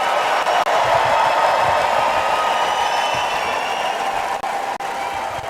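A large crowd at the 2024 Republican National Convention in Milwaukee fills the hall with continuous cheering and applause, a broad sustained roar with no words spoken.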